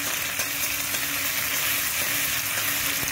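Onion paste frying in a pan over low gas, a continuous close hiss and sizzle with faint stirring scrapes, no voices.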